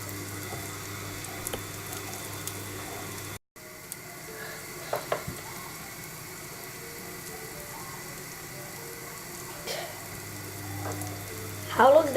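American-style pancakes cooking in a hot frying pan, giving a low steady sizzle through a long stretch, with a few scrapes and knocks and a brief louder clatter near the end.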